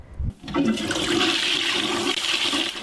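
A toilet flushes close by, a short clunk of the handle followed by a loud, steady rush and swirl of water that continues to the end.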